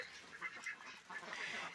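Ducks quack and chatter together in a busy flock coming to drink water, a steady layered clamor of overlapping calls with no pauses.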